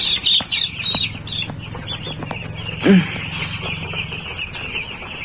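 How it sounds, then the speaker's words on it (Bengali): Week-old broiler chicks in a poultry house cheep and cluck continuously, with a sharp squawk and brief wing flapping midway as one bird is caught by hand. "এখন একটা মুরগি ধরলাম"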